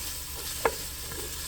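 Garlic and ginger sauté in a pan on lowered flame after onions, a quiet steady sizzle with a single sharp stir or scrape partway through.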